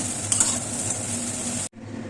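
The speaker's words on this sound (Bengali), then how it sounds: "এভাবে 5 মিনিট মতো নাড়িয়ে নেবো, তারপরেই হয়ে যাবে এটা আমার।" Poha, a flattened rice pilaf, stirred in a hot pan, giving a gentle continuous sizzle with a few light scraping clicks, which cuts out abruptly before resuming briefly.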